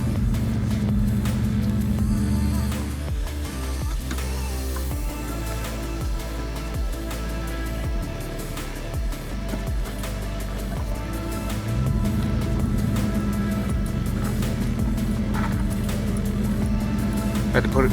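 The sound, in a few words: 4x4 vehicle driving uphill in four-wheel low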